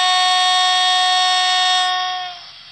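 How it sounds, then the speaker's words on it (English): The AWS horn sounds on a Dapol Blacklabel Gresley A4 model locomotive, Silver Fox 2512, as one loud, steady, buzzing electronic tone held for about two seconds before it fades and cuts off. "AWS horn."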